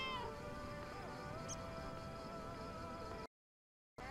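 A cat in the video game LAKE meows faintly, with a few soft, short mews under steady game music and ambience before the sound cuts out briefly.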